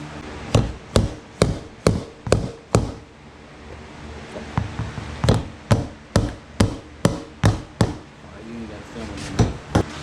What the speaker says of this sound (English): As you tap that rivet down, it spreads it on the bottom.